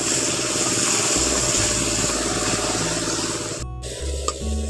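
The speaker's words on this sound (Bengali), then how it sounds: "টমেটোর কুচি কাঁচা লঙ্কা কুচি পেঁয়াজের সঙ্গে একটু ভালো করে আবার কষে নিচ্ছি" Tomato, green chili and onion sauté in a hot pan for a Bengali rui fish-head muri ghonto, giving a steady close sizzle and frying hiss with low rumbling underneath and a short clatter near the end.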